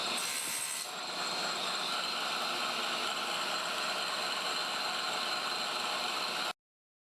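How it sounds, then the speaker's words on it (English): Oak wood segments for a segmented vase being cut by a power saw, a steady loud whining cut running continuously for about six seconds before stopping abruptly. "Time to cut some segments."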